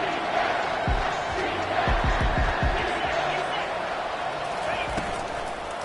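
A college football stadium crowd at Auburn versus Cincinnati roars through a big third down, a loud, steady wall of noise with some low thumps partway through, under a commentator's voice.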